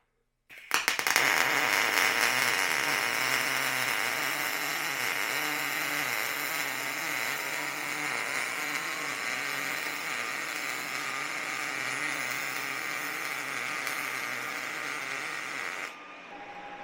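A MIG welder lays a bead, giving a close, continuous crackling buzz and sizzle. It starts abruptly, holds steady for about fifteen seconds, then drops off with no voices over it.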